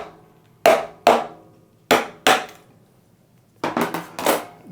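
Sharp taps strike a clear ice block being split for cocktail cubes, two pairs of crisp cracks followed by a quicker cluster of knocks, close and loud against near silence.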